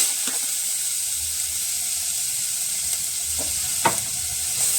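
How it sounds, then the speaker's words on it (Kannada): Grated carrot fries and sizzles in ghee with raisins and cashews for carrot halwa, a steady close hiss broken by a few scraping stirs of the spoon. "ದ್ರಾಕ್ಷಿ ಗೋಡಂಬಿ ಹುರ್ಕೊಂಡಿದ್ರಲ್ಲೇ ಕ್ಯಾರೆಟ್ ಹಾಕ್ತಾಯಿದ್ದೀನಿ"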